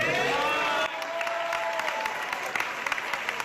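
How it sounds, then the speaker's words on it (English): An audience breaks into sustained clapping and cheering, a dense wash of applause that carries on steadily after a brief swell of voices at the start. "everybody in the crowd is more retarded for clapping and cheering"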